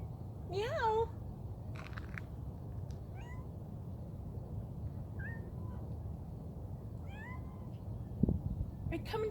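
Several short cat meows, the first a clear rising call, then softer mews scattered over a steady low background hum.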